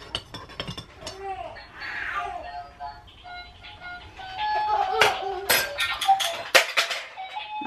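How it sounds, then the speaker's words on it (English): A metal spoon clinks repeatedly against a coffee cup in quick irregular taps, ringing brightly and close, after a stretch of quieter home noise with a person talking. "I need something to stir my coffee with"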